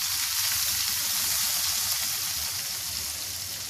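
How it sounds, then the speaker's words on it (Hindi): Hot tempering of spices with paprika powder, poured over kadhi, gives a steady, dense sizzle and crackle throughout, with no voices over it. "और कढ़ी के ऊपर ये सारा तड़का डाल दूंगी"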